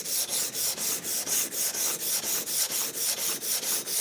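A cabinet scraper is rubbed back and forth on a 400 grit diamond stone in about sixteen even, rasping strokes, close and steady with no talk.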